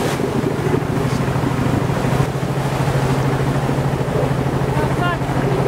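A boat is pulled through a strait by strong current at about ten knots, a loud continuous rush of water and waves with heavy wind buffeting and engine drone.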